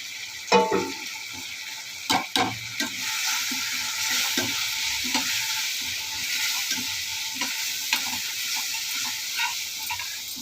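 Ginger garlic paste frying with chili powder, garam masala and turmeric for tomato rice: a steady hiss of sizzling oil broken by spoon knocks and stirring scrapes against the pan.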